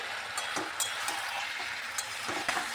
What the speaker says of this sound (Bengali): টমেটোটা দিয়ে একটু ভালোভাবে কষিয়ে নিচ্ছি